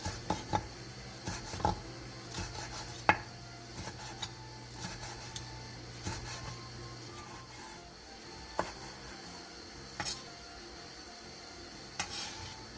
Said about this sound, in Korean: 청양 홍고추 1개를 길게 반으로 갈라 씨를 제거한 뒤 길게 채 썰어주세요.